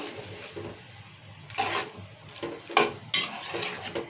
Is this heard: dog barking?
no